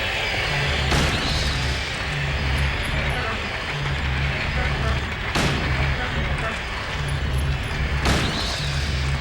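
Three heavy shotgun blasts from the video game Silent Hill 3 boom out at steady intervals of a few seconds, each a sharp, loud burst over a constant low rumbling background drone.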